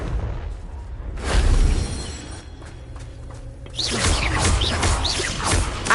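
A Confringo blasting spell explosion in Hogwarts Legacy: a sharp burst with a whooshing blast and crackling debris, then a second swelling rumble of fiery crackle later on, moderately loud in game ambience with no voices.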